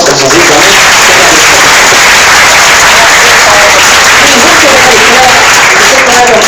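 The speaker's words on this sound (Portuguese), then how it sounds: "Receba a pastora com forças e palmas bem fortes para Jesus." A church congregation applauding loudly, dense sustained clapping that fills the room, with voices mixed into the crowd noise.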